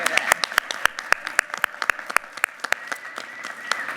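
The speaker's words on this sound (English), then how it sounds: "If our coaches could wave a hand and we could applaud for them, they deserve it." Scattered audience clapping at a startup pitch competition, a handful of sharp, uneven claps from a small group with a faint voice murmuring underneath.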